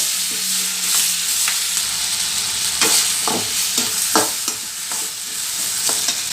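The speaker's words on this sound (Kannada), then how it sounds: "ಟೊಮೆಟೊ ಎಲ್ಲ ಚೆನ್ನಾಗಿ ಮೆತ್ತಗಾಗೋ ತನಕ ಇದನ್ನು ಫ್ರೈ ಮಾಡ್ಕೋಬೇಕು" Tomatoes fry in a pan for paneer masala with a steady sizzle, while a spoon stirs and scrapes against the pan in irregular knocks throughout.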